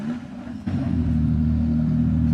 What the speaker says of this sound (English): Drivers, start your Ferrari engines.